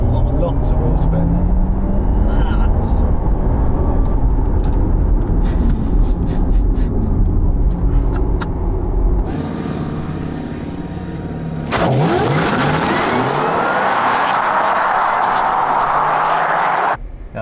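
A Porsche Taycan Sport Turismo Turbo S makes a loud launch-control start with wheel spin, a hard rising surge that drops away and then swells again. People talk over it inside the car.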